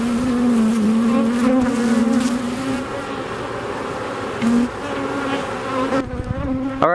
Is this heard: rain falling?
no